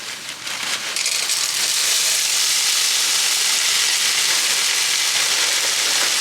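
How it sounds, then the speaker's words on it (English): A large batch of corn sautes in a hot pan, a loud, steady sizzling hiss that swells within the first second and then holds constant and close with no pauses. There is no speech. "Then to this pan back here, I'm gonna saute up a lot of corn."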